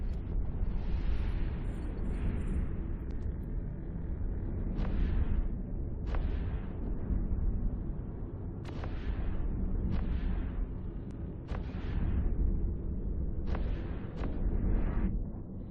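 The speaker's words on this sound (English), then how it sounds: "Fire your primary weapons." Primary weapons firing at a hive structure in Eve Online, a run of booming blasts roughly every second or two over a steady loud rumbling bed, with no talk.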